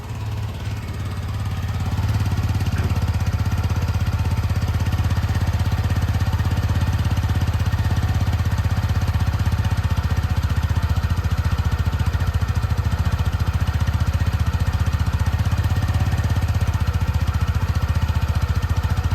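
A TVS Jupiter 110 scooter engine idling after a quiet start, a steady loud low hum with a faint rattle that rises in the first two seconds and then holds evenly, with no talking.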